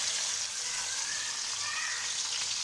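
Onions sizzle steadily in a hot pan for an aloo chana curry, a close, continuous hiss with faint crackles and no talking.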